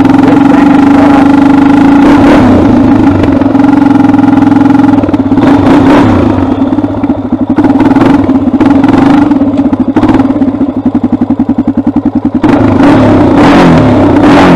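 A Honda TRX400EX ATV, a 400cc quad, revs hard in a large open field for a second-gear holeshot, its engine roaring loud and close and climbing repeatedly toward the rev limiter, with no talk.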